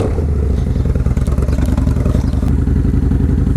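A Harley-Davidson Iron 883 engine rumbles loud and close while riding, with a steady low, lumpy, pulsing beat and some mechanical clatter. No one speaks.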